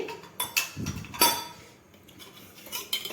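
A frying pan set down on a home stovetop before frying marinated fish, giving a few close metallic clanks and scrapes with short ringing, followed by quieter handling knocks.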